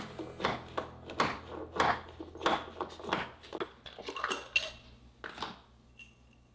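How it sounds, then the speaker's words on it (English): A knife chops walnuts on a cutting board, the blade striking in a steady run of close, crisp knocks and thuds about twice a second, with no talking. "I'll chop up some walnuts to put here on the top."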